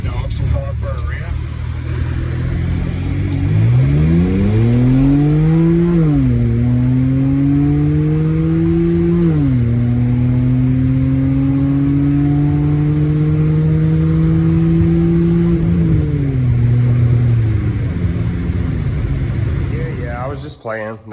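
A car engine revs up through rising gear changes with a loud, raspy exhaust drone, holding high before easing back down.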